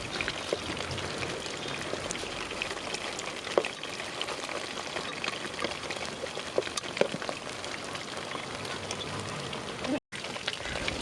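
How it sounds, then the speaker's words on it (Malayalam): Pieces of chicken fry steadily in hot oil for a Schezwan chicken dish, giving a dense, even crackle and sizzle with occasional pops and a brief cut near the end. "ഇനി നമുക്ക് ചിക്കൻ ഒന്ന് മറിച്ചിട്ട് രണ്ടാമത്തെ സൈഡും ഒരു 4 to 5 മിനിറ്റ് എടുത്തൊന്ന് ഫ്രൈ ചെയ്തതിന് ശേഷം"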